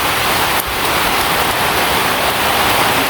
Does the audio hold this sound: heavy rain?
yes